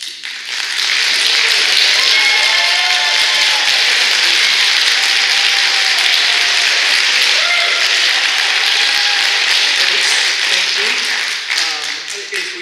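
At a HALA public hearing in West Seattle, an indoor audience claps loudly and continuously after a speaker, a dense sustained wash of applause lasting around twelve seconds before thinning out.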